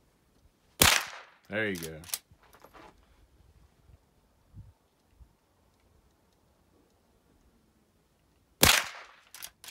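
A few sharp gunshots fired at targets outdoors. The shots ring out as loud, separate cracks several seconds apart, with quiet gaps between them and a person speaking briefly.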